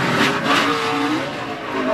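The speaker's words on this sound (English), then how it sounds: "That car just stepped out a lot like it did Saturday night, Mike, when somebody got alongside of it." A NASCAR race car slides out, a loud close engine roar with tire squeal and skidding noise over a couple of seconds, without talk.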